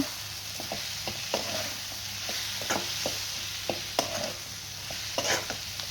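Brinjal masala seasoned with rock salt is sautéed and stirred in a pan, giving a quiet sizzle broken by intermittent scraping and tapping strokes over a low steady hum.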